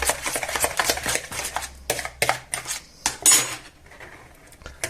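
A metal spoon clinks and scrapes against a bowl while sliced garlic cloves are mixed into raw chicken wings, a series of close, irregular clatters with brief pauses between them.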